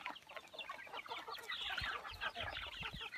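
Chickens in a pen beside a rice field, steady clucking and fowl chatter from several birds, faint and somewhat distant, continuous throughout with no talking.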